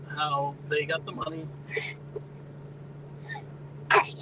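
After some speech, a single sharp sneeze bursts out near the end, close and fairly loud against a faint steady hum.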